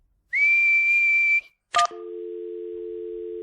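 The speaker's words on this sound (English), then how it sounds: "What's whistling anyway? You put your lips together and blow." A steady, clear whistled note held for about a second, then a sharp click and a long, flat electronic tone like a phone dial tone.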